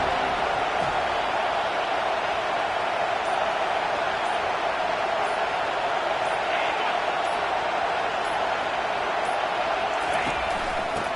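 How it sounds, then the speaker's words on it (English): Loud, steady roar of a packed stadium crowd during a college football video game, Florida State against Florida, on third down, a dense wall of cheering that holds level throughout with no pauses. "3rd down, and this crowd is tearing the lid off this place."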